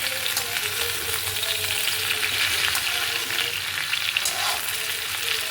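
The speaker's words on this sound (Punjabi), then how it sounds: "ਇਹਨੂੰ ਆਪਾਂ 5-7 ਮਿੰਟ ਤਲਾਂਗੇ ਕਿ ਅਰਬੀ ਜਿਹੜੀ ਹੈ ਕੱਚੀ ਨਾ ਰਹਿ ਜੇ" Chunks of taro root (arbi) fry in hot oil, giving a steady, close sizzle and crackle with small bubbling pops, continuous throughout and with no talking.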